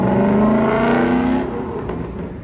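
A C8 Corvette on a canyon road accelerates hard with a loud, close, rising engine note and rapid harmonic whine, then eases slightly as it pulls away.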